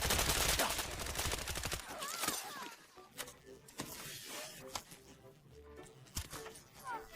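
Rapid gunfire from a modified G3 rifle in the Delta Force battle royale game: a dense burst of shots, then scattered single and short bursts at mid range, with faint distant gunfire behind.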